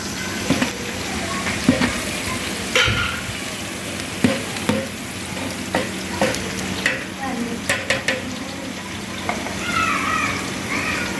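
Onions fry in a pan for chana pulao with a continuous crackling sizzle. Repeated sharp scrapes and knocks from stirring break in, alongside some watery bubbling.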